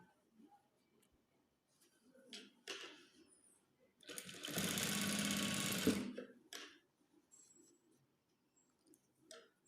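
A sewing machine runs a short burst of stitching along the edge of a fabric face mask, loud and steady for about two seconds, with quiet handling sounds before and after.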